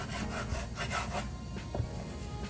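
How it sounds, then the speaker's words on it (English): Rapid, close knife chops through sun-dried tomatoes on a wooden cutting board, cut coarsely in an uneven series of soft thuds and scraping strokes. "We're going to chop them up. Just chop these up kind of coarse"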